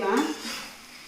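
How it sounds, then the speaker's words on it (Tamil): A brief scrape and clink of a spoon stirring chicken fried rice in a pan over high gas flame, one short stroke that fades quickly. "இப்போ நம்ம கிளறிடலாம்."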